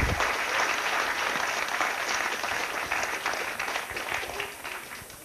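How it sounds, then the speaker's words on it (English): Audience at a Christmas chemistry lecture breaking into a steady round of applause, dense clapping that starts loud and slowly fades. "Well, I think we get a round of applause for the loser,"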